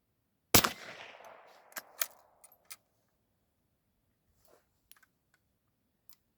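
A rifle fires once outdoors at soda bottles set about 25 yards away: a single loud, sharp crack with a fading tail, followed by a few faint scattered clicks.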